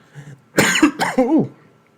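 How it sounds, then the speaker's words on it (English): Two or three dry, harsh coughs in quick succession, close and loud, followed by a short throat-clearing rasp. "Excuse me, dry cough."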